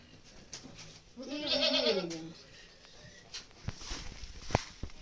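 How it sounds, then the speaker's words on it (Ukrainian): A goat bleats loudly at close range in a single wavering call, while it is being measured for weight with a tape, amid quiet shuffling and farm background noise. "Беремо козу."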